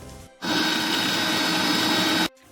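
Green masala of chillies, coriander and a little garlic whirring in a mixer grinder: a loud, steady motor roar starting abruptly and running evenly for nearly two seconds before cutting off.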